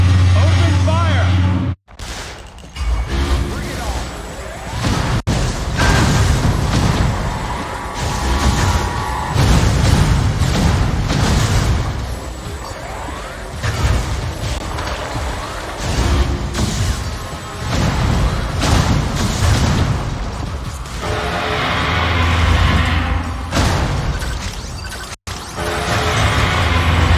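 Gunfire and explosions in Metroid: Other M make a sustained, chaotic barrage of booming blasts and crashing impacts, with heavy thuds recurring throughout while voices shout over the fighting.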